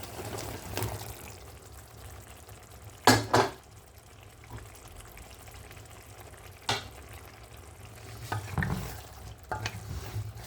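Eggplant and potato with masala fry in a pan under a low sizzle, broken by several sharp scraping and clattering strokes of stirring, with a couple of louder bursts spaced through.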